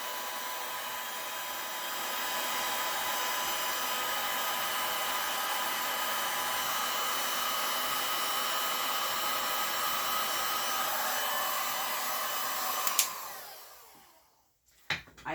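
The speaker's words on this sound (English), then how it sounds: "heat it with your heat gun and it'll loosen right up" Close and loud, a heat gun blasts hot air onto a resin bottle top in a steady hissing roar for about thirteen seconds, then winds down and cuts off, leaving a couple of soft handling knocks.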